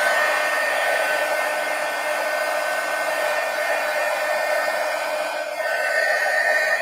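A hair dryer blows steadily at close range over a sketchbook to dry wet ink, a constant airy whirr with a faint high motor whine and no talking.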